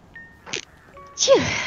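A person sneezes once, a short sharp burst near the end, with a faint voice heard earlier.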